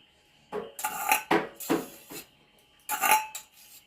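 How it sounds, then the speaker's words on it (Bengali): Sour yogurt and semolina are stirred together in a bowl for uttapam batter, giving several bursts of scraping and clinking spoon against the bowl, close and fairly loud, separated by short pauses. "এরপর এই 1 বাটি দইটা সুজির সাথে মিশিয়ে দিলাম"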